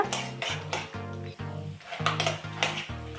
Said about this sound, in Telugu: ఫస్ట్ అయితే వీటిని మంచిగా ఫ్రై చేసుకోవాలి లో ఫ్లేమ్ పెట్టుకొని పల్లీలు మినపప్పు శనగపప్పు ఇవి దూరగా వేయించుకోవాలన్నమాట